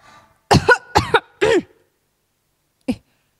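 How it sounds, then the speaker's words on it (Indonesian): Three quick, harsh coughs in close succession, followed after a pause by one short final cough, heard up close with no talking, during an online Sunday children's church service. "Batuk ya?"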